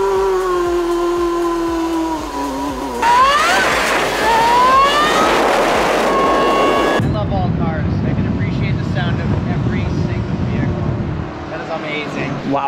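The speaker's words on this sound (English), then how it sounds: "This car sounds incredible in between two buildings." A Ferrari engine revs between two buildings, its roar rising in pitch and echoing off the walls. The sound is loud and close, then settles into a steady, broad rumble with wind-like noise.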